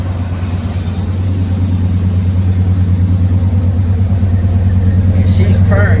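A Chevrolet Monte Carlo engine idles roughly with an exhaust leak, a loud, steady low rumble carrying a faint rhythmic pulsing throughout, with a brief higher-pitched sound near the end.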